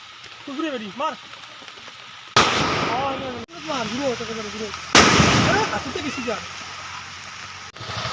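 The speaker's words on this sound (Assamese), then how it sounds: "এতিয়া বৰষুণৰ মাজতে আমি বোমা মাৰিম" Loud firecracker bursts during a rainy Diwali night, with sharp explosions near 2.4 and 5 seconds and crackling tails, over steady rain; excited voices and shouting run throughout.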